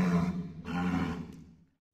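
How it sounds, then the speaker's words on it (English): A walrus gives a deep, rough roaring call, one sustained bellow that swells, breaks briefly and then fades out, loud and close with no other sound around it. "Walrus."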